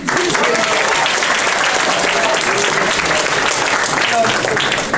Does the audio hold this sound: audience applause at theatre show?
yes